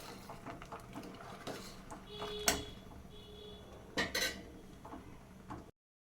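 Faint clinks and scrapes of a spoon against a pot as soaked sago is stirred into boiling milk for homemade payasam, a few sharper metallic knocks scattered among quiet kitchen rustle.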